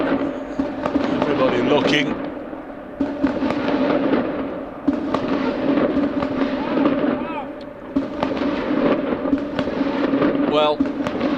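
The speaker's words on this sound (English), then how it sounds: "Well, I can only presume it's a firework display." Fireworks going off at a cricket ground during a county match, a run of bangs and crackles in the distance beneath steady commentary and crowd noise.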